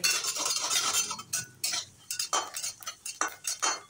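Whole spices dry-roast in a pan while a metal spoon stirs and scrapes them, giving repeated close clinks and rasping scrapes in an uneven rhythm with short pauses.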